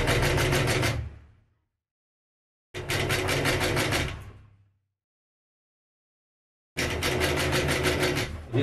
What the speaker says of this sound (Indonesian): Kita jahit keliling ya.